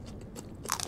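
Crunchy spicy fried chicken bones, Richeese Flying Chicken, bitten up close in a mukbang, giving a couple of sharp, crackling crunches near the end of a short quiet stretch.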